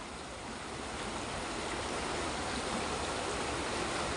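Steady rush of a flowing stream or small river, loud and close, a continuous broadband wash of water running without a break for the whole stretch.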